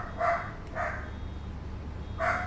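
A dog barks three times in the background behind a steady low hum, sharp short yaps spaced unevenly, with no talk over them.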